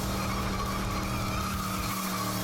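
Race car tires skidding and squealing in FlatOut 2, a continuous loud screech over steady engine roar lasting the whole stretch, with no talk.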